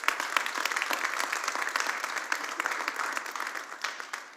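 A church congregation at a Spanish-language service applauds in praise, a dense, steady wash of many hands clapping close by for the whole stretch, with no voices on top.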